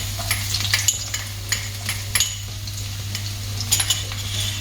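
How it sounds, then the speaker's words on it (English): Chopped garlic sautéing in hot oil for penne arrabiata, a steady close sizzle with light stirring clicks and utensil scrapes scattered throughout, no voices. "So the oil is hot, we'll add chopped garlic to it."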